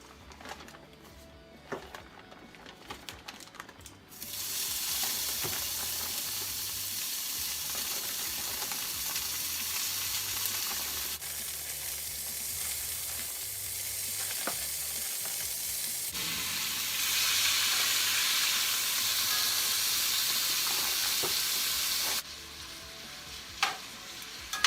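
Vegetables tossed with marinade sizzle loudly in a hot skillet for elk fajitas, a steady frying hiss that swells after a quiet start, with occasional scrapes and clinks of stirring.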